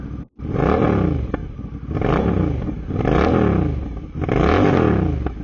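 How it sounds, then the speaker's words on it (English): A motorcycle fitted with a Coffman Thunder exhaust, its baffle removed, revved four times in succession, each rumbling blip rising and falling, loud and close with brief idle between. "I did take the baffle out"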